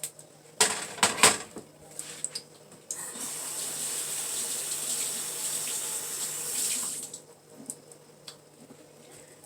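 A kitchen tap runs while mustard is rinsed off, with a few clattering knocks at first, then a steady hiss of flowing water for several seconds before it shuts off to quieter handling sounds.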